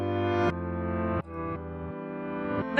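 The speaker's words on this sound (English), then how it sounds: "there's a reverse feature that you can use, and that will throw everything in reverse" A piano recording in Soundtrap played in reverse, with swelling, sucked-in notes that cut off abruptly in a few successive chunks, close and fairly loud with no talking.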